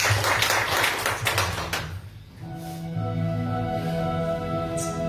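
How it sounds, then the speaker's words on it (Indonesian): A church congregation claps in praise to God during worship, a dense burst of applause fading out after a couple of seconds into sustained keyboard chords. "Berikan tepuk tangan untuk Tuhan"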